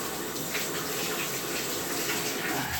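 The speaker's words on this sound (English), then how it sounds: "we're going to rinse these out" Filter pads from the sump of a 125-gallon African cichlid aquarium rinsed under a steady stream of running tap water, a close, continuous splashing gush with no talk.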